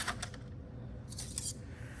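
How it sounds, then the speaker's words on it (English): Scissors cut through thick aluminum sheet in a few brief, crisp snips close by, with quiet metallic crunches near the start and again in the middle against a low background hum. "you can actually cut it with scissors"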